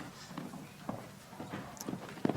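Horse hooves clip-clop on the ground at a senior world championship show jumping arena, several distinct thuds in uneven rhythm, moderately close, growing louder toward the end.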